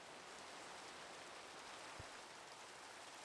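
Steady rain falls in the Minecraft Pixelmon video game, a soft, even hiss of continuous patter with one brief low thump partway through.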